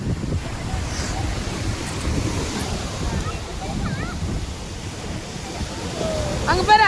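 Sea waves wash onto a beach in a steady, broad rushing roar mixed with wind buffeting the microphone, with a voice speaking faintly beneath and birdlike chirps near the end.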